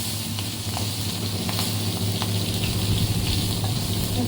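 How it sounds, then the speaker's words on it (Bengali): Slit green chillies sizzle in hot oil for a tempering, giving a continuous close hiss with a faint crackle and a watery, frothy texture that stays steady throughout. "এই তেলে আমি টক তুলে দেবো। দিয়ে দিচ্ছি কাঁচা লঙ্কা চেরা"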